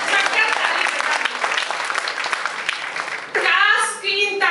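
An audience at a comic Hindi poetry recital breaks into loud, dense applause lasting a few seconds, then a voice speaks over the fading claps.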